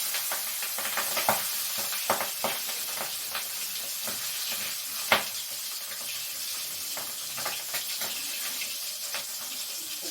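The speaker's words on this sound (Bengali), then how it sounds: "আর এই পাবদা মাছ না কড়াইতে দিলে ভীষণ ফোটে" Pabda fish frying in a hot kadai on low gas, giving a steady hiss throughout with scattered crackles and pops, one louder spatter near the middle, close and continuous.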